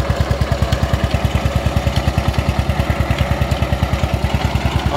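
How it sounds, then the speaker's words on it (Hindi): An old Eicher tractor engine runs a belt-driven jaggery-making crusher, chugging in a rapid, even, loud diesel thump that holds steady without change. "ये भाइयों पुराना आइशर है, ये चला रखा है इस पर।"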